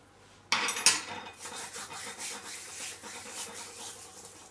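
Dried thyme crumbled by hand over savoury spiced cookie dough ingredients: a sudden dry rustling crunch, then a softer, steady rubbing crackle that carries on close to the ear.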